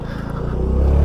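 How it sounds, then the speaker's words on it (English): A Honda Navi mini motorcycle revs hard for a burnout, its small engine giving a close, steady buzzing drone that swells louder over about a second, with no talking. "Maybe get a little burnout in for good measure."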